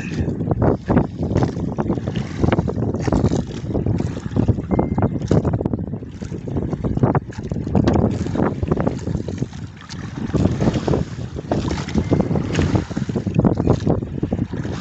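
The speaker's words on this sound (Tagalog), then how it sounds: "malakas na yung hangin" Strong wind at sea buffeting a fishing boat out after tuna, a loud continuous roar with gusty surges and microphone buffeting, no voices.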